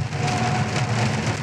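Rain drums steadily on a 2018 Hyundai Avante driving on a highway, a dense close hiss of drops over the car's low engine and road hum, with no talking.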